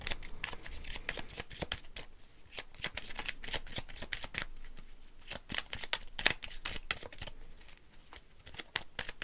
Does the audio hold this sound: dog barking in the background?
no